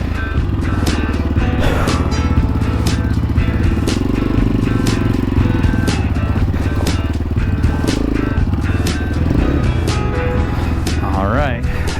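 A dirt bike engine drones loud and close throughout, climbing steep canyon hills near Florence, Arizona, its steady rumble broken by repeated sharp knocks and clatters, with a voice talking over the engine.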